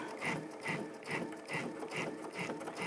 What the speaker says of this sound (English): I'm going to do my stitch in the ditch first, come down to the edge here